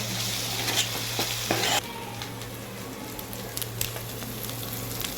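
A spatula stirs curry with turmeric in a hot pan, close up, over a steady loud sizzle with scattered scraping and popping and no voices.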